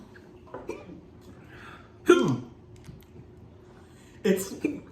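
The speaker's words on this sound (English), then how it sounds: "I am so glad to not be the only one hiccuping right now" A person hiccuping, three sharp short hiccups spaced about two seconds apart, close and clear, with faint breathing and a quiet voice in between.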